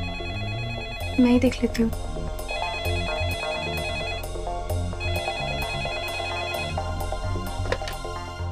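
A telephone rings with repeated bell-like chimes inside a home, heard under background music while someone speaks briefly.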